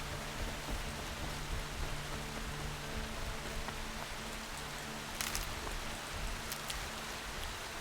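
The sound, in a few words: rain falling in video game Horizon Zero Dawn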